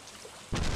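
A sudden loud crack and rumble of thunder during a thunderstorm in the Stardew Valley video game, bursting in abruptly after a half second of quiet wind-like background and holding steady and broad to the end.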